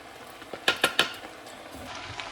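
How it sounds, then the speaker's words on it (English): Dry rice poured into a pot of cooking peppers, onions and garlic, heard as three quick rattling clatters close together, then a soft low settling rustle. "So I'm gonna add 2 cups of rice to my peppers,"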